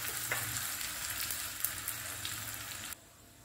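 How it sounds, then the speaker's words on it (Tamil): Mustard seeds popping in hot oil for a sambar tempering, a steady close sizzle with scattered small crackles that stops abruptly near the end. "இப்போ பார்த்தீங்கன்னா கடுகு பொட்டிடுச்சு."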